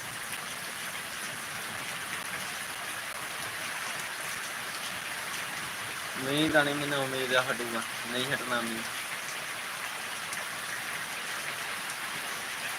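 Steady rain falls throughout, a constant even hiss with a voice talking over it briefly in the middle.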